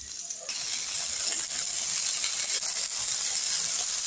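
Ground cumin, coriander powder and salt fry in oil in a pan with a constant, close hiss like steam, rising after a quieter opening and holding steady, with light rattling underneath.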